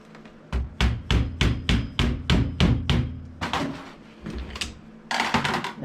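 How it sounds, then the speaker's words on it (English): Snap rings being pried out of their grooves with a screwdriver during a Getrag F23 transmission differential job: a rapid series of sharp metallic taps and clicks, close and fairly loud, with a busier scraping clatter near the end. "We got to get a screwdriver behind there and work them out."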